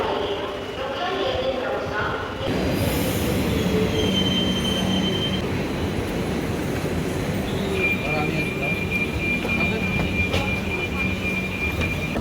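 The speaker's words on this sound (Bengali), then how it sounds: "এখন ট্রেন আসবে রানাঘাট লোকাল" A Ranaghat local train pulls into a station with a loud, continuous rumble of wheels and a drawn-out metallic squeal, while voices on the crowded platform carry faintly underneath.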